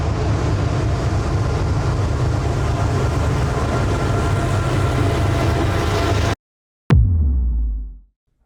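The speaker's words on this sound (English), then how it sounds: "And here comes the train." A passing train gives a loud, steady rumble that roars on for several seconds, breaks off abruptly, then returns as a single heavy thud that dies away.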